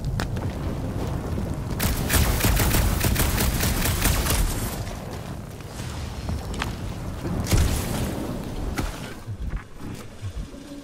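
Sustained gunfire and explosions in the video game Guardians of the Galaxy, set in a jungle: loud, dense bursts of shots and booms rolling continuously over a rumbling background, with no voices.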